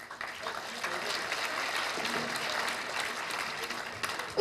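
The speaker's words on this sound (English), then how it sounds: "how about a round of applause for Bert for doing such a great job?" An audience at a 2013 candidate forum applauds, a fairly faint, sustained patter of clapping that lasts the whole time, with some voices mixed in.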